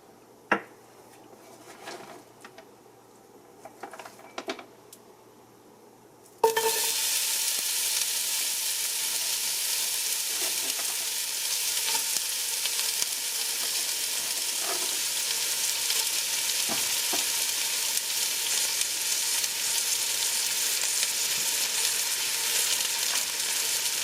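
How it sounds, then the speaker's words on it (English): Onions drop into hot oil in a pan for smoked sausage pancit bihon, setting off a sudden loud sizzle that settles into steady close frying, after a few quiet kitchen clicks and knocks. "after once the oil is ready, as you can see, it's hot. Let's go ahead and add the onions."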